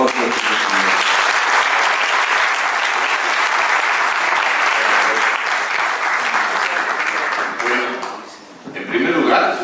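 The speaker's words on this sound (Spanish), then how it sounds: "un aplauso al actor Jorge" An audience at a theatre criticism event in Mexico applauds the actor Jorge, loud sustained clapping from a full room that fades briefly near the end before resuming.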